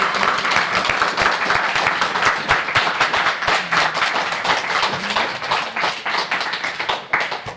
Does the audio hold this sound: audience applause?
yes